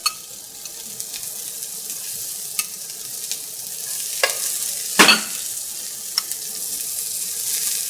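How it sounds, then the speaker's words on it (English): Celery and carrot sizzle in olive oil in a pan, making a steady, close frying hiss with occasional clinks and scrapes of stirring. "So I'm going to add a little bit of olive oil. And then I'm going to start adding my celery,"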